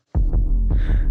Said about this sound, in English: Right when the kick hits, I designed a little like a wub wub for the sub.